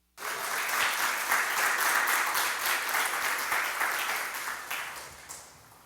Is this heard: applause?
yes